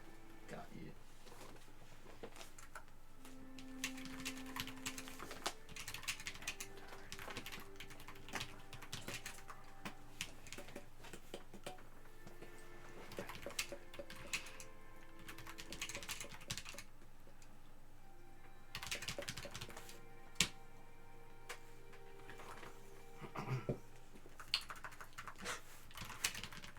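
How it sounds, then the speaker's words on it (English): Quiet computer keyboard typing in irregular bursts of soft key clicks, with voices talking in between. "I'm literally just typing like this."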